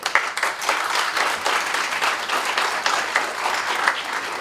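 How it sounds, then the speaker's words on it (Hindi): An audience applauds loudly at a seminar on dharma and religion held at a law college, with dense, steady clapping continuing throughout and only faint voices beneath. "तो आप लोग अपने लिए जोर से ताली बजाएं"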